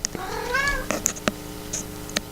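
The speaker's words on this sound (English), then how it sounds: "Damn it, hold on. My cat." A house cat meows once clearly, a drawn-out rising and falling call heard close but fairly soft, followed by a few small clicks and taps in a quiet room.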